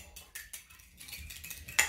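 A utensil stirs a legume salad in a bowl, producing a few light scraping and clinking strokes at close range, quiet and irregular, ending on a brighter clink.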